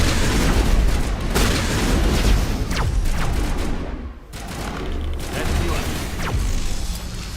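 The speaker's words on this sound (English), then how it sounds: "That's a shotgun." Shotgun blasts from the Mass Effect 1 video game on the planet Feros, several heavy booming shots spread across the span amid dense combat noise, loud and close with a brief drop in the middle.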